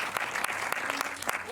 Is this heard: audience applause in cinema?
yes